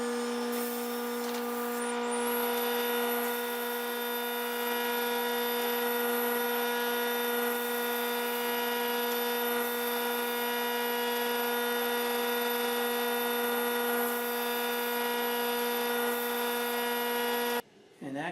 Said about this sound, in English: this works pretty nice for cleaning off the burr on the edge of my disc, and also gives the surface a light sanding